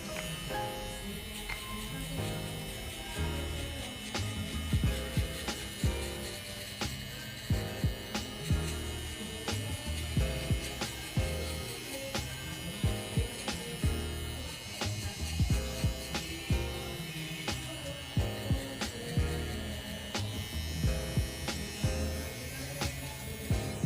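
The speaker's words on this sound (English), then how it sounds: "our trimmers" A hair trimmer buzzes close by with a steady electric hum, its tone shifting in short rhythmic pulses as it moves through hair.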